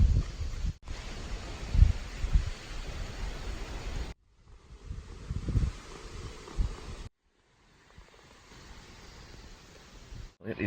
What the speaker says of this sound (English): It is windy out.